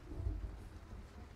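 Low thunder rumbles through a brewing storm in Battlefield Hardline, a deep rolling swell with faint rain-like hiss above it, heard alone and fairly close for a short moment.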